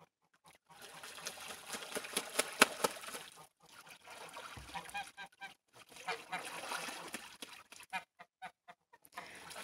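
Geese honk and cackle on a pond in early misty morning, irregular calls coming in clusters at moderate distance, with intermittent quiet gaps and some soft talk mixed in.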